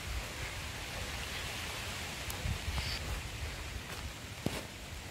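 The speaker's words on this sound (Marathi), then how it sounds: "पाऊस काही जाऊचं नाव घेणार नाही" Steady rain falling over a village farm with areca trees in the Konkan region, a continuous even hiss with a few faint scattered drips and knocks, no voices.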